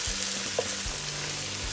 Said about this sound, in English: I'm adding the celery and onions, and I'm going to cook that until my onions are clear.